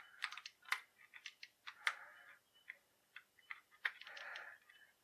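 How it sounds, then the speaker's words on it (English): Tape being cut open on a G.I. Joe Red Laser figure package, heard as a quick run of faint, crisp clicks and scratchy slices with a short rustle near the end, with no talking. "So I'm going to go ahead and just cut that tape open."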